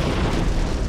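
A single close, heavy boom from an explosives demolition charge during trench and excavation work on the Philadelphi corridor, loud and broadband throughout.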